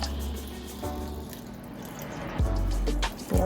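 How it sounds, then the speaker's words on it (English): Four cups of water are poured into a cooking roux for chicken and sausage gumbo, a close continuous splashing gush with a low bubbling rumble and brief surges near the end. "So I'm going to add 4 cups of water."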